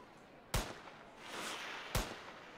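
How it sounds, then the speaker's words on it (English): Two sharp, loud sniper rifle shots in the video game Ski Sniper on Nintendo Switch, about one and a half seconds apart, each a crisp crack with a short tail, against quiet background. "And I'm shooting and shooting and shooting."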